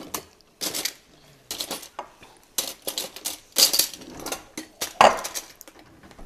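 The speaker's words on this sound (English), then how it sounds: "Let me get a tablespoon out of here" Metal utensils clink and rattle as a tablespoon is dug out of a container of utensils in a home kitchen, with a series of sharp, close jangles and scrapes separated by brief pauses.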